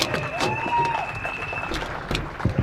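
A church congregation applauding for Jesus: a steady patter of clapping throughout, mixed with faint crowd noise and a sustained tone in the background.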